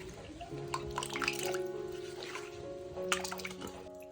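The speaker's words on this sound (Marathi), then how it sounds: "तर मस्तपैकी असे पाण्यामध्ये धुवून घ्यायचे" Fish being rinsed and rubbed in a vessel of water in a village kitchen, with soft splashing and dripping close by. Steady tonal hum and low background sounds run underneath, and a brief voice is heard.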